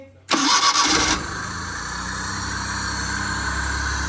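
A petrol car engine starts after being refitted, with a short loud cranking burst that catches and settles into a steady, even idle hum.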